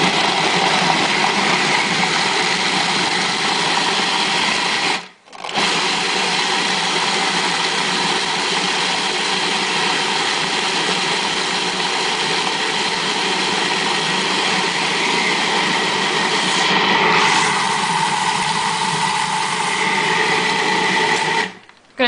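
A food processor runs steadily, churning a raw vegan chocolate cake mixture with a continuous motor whir that cuts out briefly near the start and again at the very end, loud and alone without talk.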